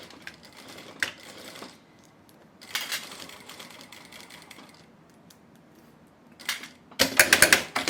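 A sewing machine stitches a handmade bag with a French braid in short bursts of rapid mechanical whirring separated by quiet pauses, the final burst loudest and closest, no talk.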